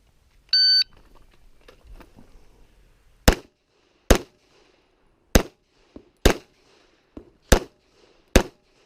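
Six sharp pistol shots crack out at an IDPA shooting match stage on an outdoor range, loud and close, spaced about a second apart after a short electronic shot-timer beep.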